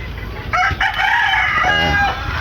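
A Street Gilmore broodcock, a backyard gamefowl, crows once loudly and close, a drawn-out cock-a-doodle-doo lasting over a second.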